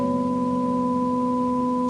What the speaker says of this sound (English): there's a constantly humming going on in the background